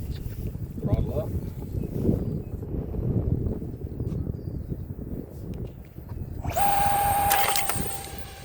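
A 3D-printed Mirage RC plane's electric motor spools up near the end with a rising high-pitched whine, following wind-buffeted outdoor rumble and shuffling at a bungee launch site.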